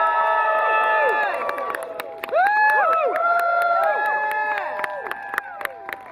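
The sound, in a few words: audience cheering at Q&A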